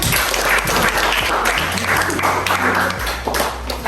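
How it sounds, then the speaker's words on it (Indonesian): Classroom applause for a presentation group, a moderate round of clapping from students that runs steadily and tapers slightly toward the end over a low background hum. "Oke, tepuk tangan di kelompok 3."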